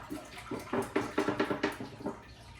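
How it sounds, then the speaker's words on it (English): Milk poured straight into a big pot on a stove, giving a quiet series of gulping, splashing pulses in an uneven rhythm, close by with no talking. "Pour our milk straight into this big old pot."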